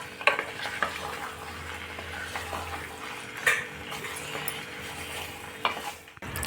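Chicken pieces simmer in masala for restaurant-style butter chicken, with a low steady sizzle broken by a few sharp spoon-on-pan clinks and stirring scrapes, close by and with no talking.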